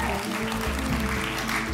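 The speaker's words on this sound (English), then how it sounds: "Keep those applause coming." Church audience applauding a youth team, steady clapping heard with a speaking voice over it for the short stretch.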